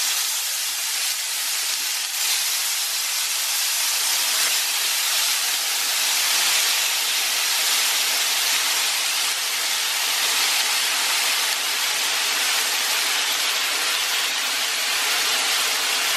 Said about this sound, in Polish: olej mam już rozgrzany. I teraz wrzucam arbuza.